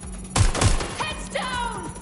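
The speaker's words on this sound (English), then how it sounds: "They're shooting!" Gunfire in Watch Dogs Legion, two sharp close shots in quick succession followed by fainter whizzing and ringing game effects.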